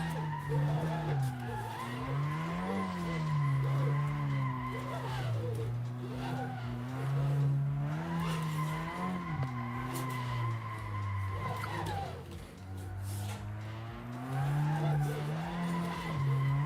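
A car drifting on practice runs with the tires skidding and squealing in long repeated sweeps, the engine droning loud and close beneath the screech throughout.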